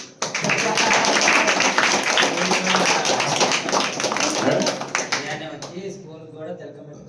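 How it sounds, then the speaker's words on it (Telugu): An audience at a talk bursts into loud, dense clapping for about five seconds, then it thins out into scattered claps as a voice speaks over the fading end. "మీకు మీరే చప్పట్లు కొట్టుకోండి"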